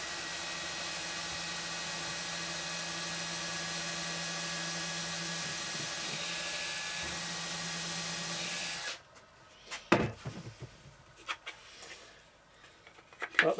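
A power drill boring into wood while building a cotton thread rack, a steady close whine held for several seconds before it cuts off, followed by scattered knocks and handling sounds.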